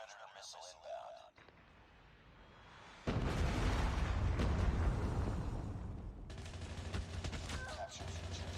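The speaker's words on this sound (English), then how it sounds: "Friendly Predator missile inbound." A Predator missile strike in Call of Duty Mobile lands as a sudden loud explosion, then a sustained roaring blast with rumbling debris and scattered gunfire, preceded by quieter game audio and clipped announcer voice.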